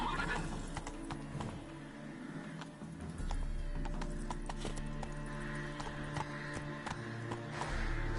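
Horse hooves clip-clopping at a steady gallop in The Witcher 3, with neighs and whinnies, loud and continuous throughout, alongside game ambience and no talking.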